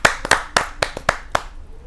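Audience applause welcoming a poet at a Hindi kavi sammelan: about seven sharp, close handclaps in a loose, uneven rhythm over two seconds, fading quickly with no voices.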